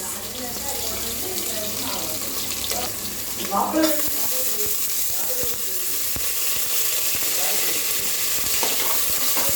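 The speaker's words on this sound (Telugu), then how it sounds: "బఠానీ కూడా వేసుకుని అన్నీ వేసుకుని బాగా కలుపుకోండి ఫ్రెండ్స్" Potatoes, carrots and peas fry and get stirred in a pan for kichidi, with a continuous sizzle and scraping stirs, plus splashy watery sounds and a brief louder stir midway, no speech.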